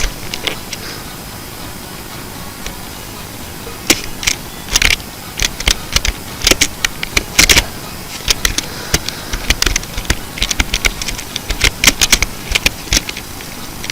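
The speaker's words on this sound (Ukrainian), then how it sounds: "якщо ви чуєте мою клавіатуру" A computer keyboard being typed on during a Bonk.io game session, with irregular bursts of sharp clicks and clacks over a steady hiss, close and fairly loud, with no talking.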